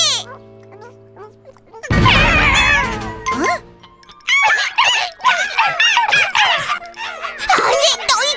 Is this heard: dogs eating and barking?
yes